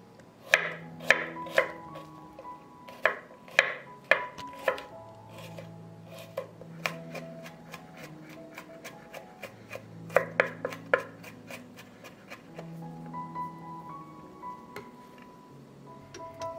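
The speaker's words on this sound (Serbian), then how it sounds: "zatim ću iseckati 4 češnja belog luka" Four garlic cloves being chopped with a knife on a board: bursts of sharp, quick taps in rapid clusters, close and fairly quiet, with short pauses between runs.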